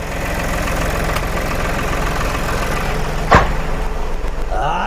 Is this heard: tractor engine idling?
yes